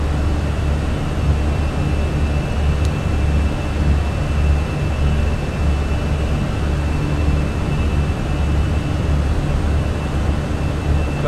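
Airbus A320 engines in the Fenix flight simulator, a steady loud roar with a low rumble and a thin high tone, continuous through the climb past 10,000 feet with no talk.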